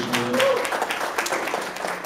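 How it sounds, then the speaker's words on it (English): An audience applauds during a sermon at Triangle Family Church, a steady wash of clapping that fills the whole stretch at an even level, with some voice-like tones mixed in near the start. "Quick round of applause."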